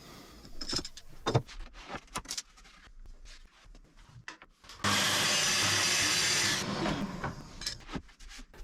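A track saw cuts wood in a single loud burst of about two seconds, preceded and followed by clunks and rustles of setting up the jig and workpiece.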